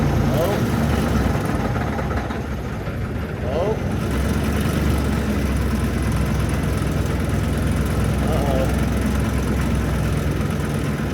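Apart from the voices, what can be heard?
truck engine idling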